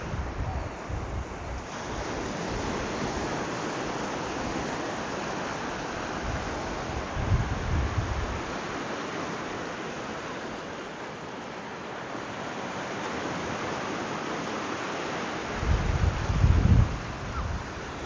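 Waves wash onto a Lake Michigan sand beach below bluffs. The surf rushes steadily while wind buffets the microphone, and low gusts swell now and then.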